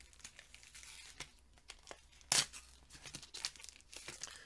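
A Pokemon Vivid Voltage Sword and Shield booster pack is torn open by hand, its foil crinkling and ripping in short, close bursts with one sharp louder tear midway.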